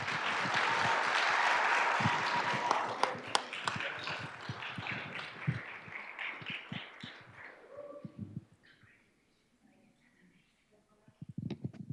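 An audience at a school board meeting claps for about eight seconds, a dense round of applause that thins out and fades into near silence, with a little faint noise near the end.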